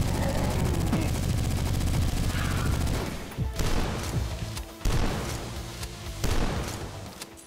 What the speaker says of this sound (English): Oh, I'm shooting so fast.